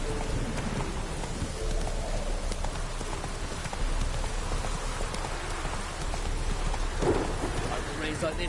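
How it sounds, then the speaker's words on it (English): Steady rainfall patters across an open landscape in The Witcher 3, a constant wash with faint hoofbeats and low rumbles beneath, while a voice speaks briefly. "Rains like this come sowing time."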